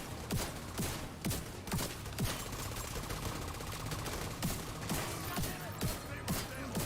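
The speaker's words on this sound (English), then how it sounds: "And again, I'm using a shotgun." Shotgun fire in the shooter game The Division 2 rings out as a rapid series of sharp blasts at short, fairly regular intervals over a constant background of in-game combat.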